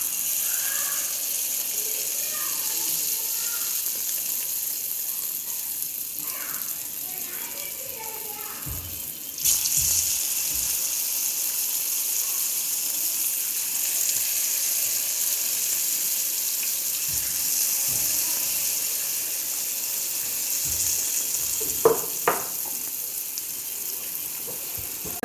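Ladleful of batter poured into very hot oil in a pan for a quick snack, giving a steady, bright frying sizzle throughout with a few scraping clinks of a ladle, no speech.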